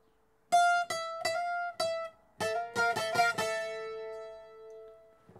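A requinto guitar plays the opening of a tutorial melody, a run of about ten plucked notes that speed up in the middle and close on a long, sustained ringing note, heard clearly with no voice.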